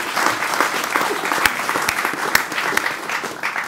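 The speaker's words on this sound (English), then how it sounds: "Let's have a round of applause for this wonderful panel." A conference crowd at the India 2016 closing plenary gives a panel a round of applause, with dense, sustained clapping from many hands and a few louder individual claps standing out.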